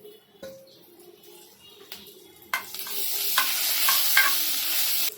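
Asafoetida, bay leaf and green chillies hit hot oil in a pan and sizzle, quiet at first and then a loud, steady frying hiss, with a few scraping stirs on top.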